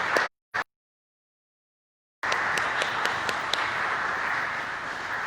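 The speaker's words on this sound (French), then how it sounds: "de lui donner des applaudissements nourris pour cette étude" After a Bible study, a church congregation breaks into steady applause. Dense clapping from many hands fills the room after a couple of brief bursts and a gap of silence, with a few sharper individual claps standing out.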